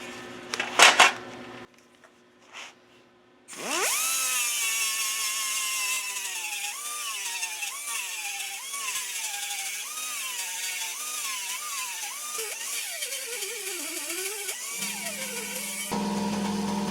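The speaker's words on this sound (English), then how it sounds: "now what I'll do is take my sanding disc and knock this down" A sanding disc grinds down a steel fender on a Triumph Scrambler motorcycle, welded holes being smoothed. The harsh, close whine is loud and steady with wavering pitch for about twelve seconds, after a few short knocks.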